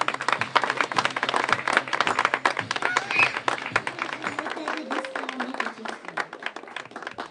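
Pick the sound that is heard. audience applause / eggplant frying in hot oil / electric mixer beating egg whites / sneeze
audience applause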